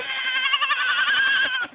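Goats at a farm with a mother goat and her young bleat in a loud, close, wavering cry lasting over a second, alone without talk.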